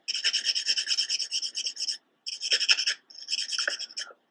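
A nail file buffs a fingernail's surface in quick, even rasping strokes, close and steady, pausing briefly twice before resuming.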